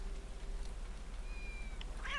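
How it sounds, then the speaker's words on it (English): Cats meowing in the video game Postal 2: a brief, high-pitched meow near the end over a steady low hum and faint background game noise, with no talking. "There's cats everywhere."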